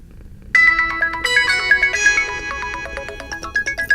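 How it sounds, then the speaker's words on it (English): A Huawei Watch 2 Classic plays a bright, chiming electronic ringtone, a quick repeating melody of bell-like notes starting abruptly and ringing loud and close for several seconds. "Let's check out some of the different ringtones."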